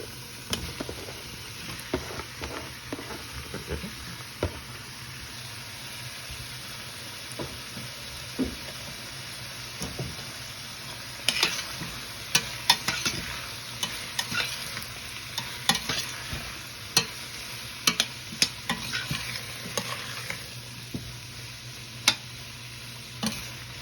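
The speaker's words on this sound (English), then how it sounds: "To this now, I'm going to add the codfish." Saltfish (codfish) frying in a pan, a steady low sizzle with scattered sharp clicks and scrapes of stirring that grow busier toward the end, no voices.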